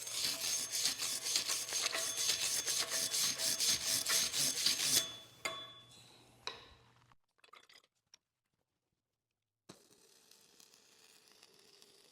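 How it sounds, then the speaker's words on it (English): A steel joint is scrubbed with a brush before welding, a rapid rhythmic raspy scraping for about five seconds, then a few scattered clinks and taps before near silence and a faint hiss. "I'm going to brush this a little bit more, and then I'll weld it."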